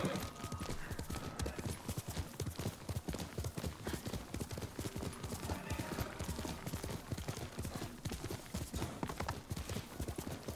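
Horse hooves in Ghost of Tsushima clop along in a fast, regular gallop rhythm, sharp repeated strikes close and prominent for the whole stretch.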